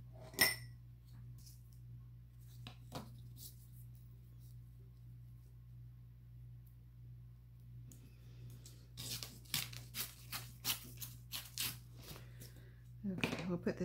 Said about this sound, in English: Let's go ahead and tear a strip of this off.